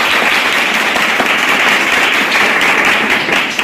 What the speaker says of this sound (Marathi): काकांसाठी एकदा जोरदार टाळ्या.